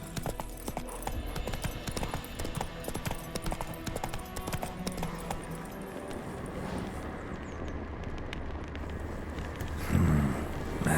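Roach, the horse in The Witcher 3, gallops with a rapid, continuous clip-clop of hooves, close and steady throughout, over faint game ambience.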